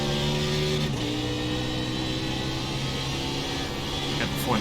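A NASCAR Xfinity car in iRacing at full speed around Montreal's Circuit Gilles Villeneuve, a loud steady engine drone that drops in pitch with an upshift early on and holds a sustained tone, with no talk.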